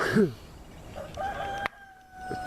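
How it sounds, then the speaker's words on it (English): A rooster crows loudly at the start, followed by quieter background noise and faint distant bird calls fading in and out. "Got to hear a rooster actually crow."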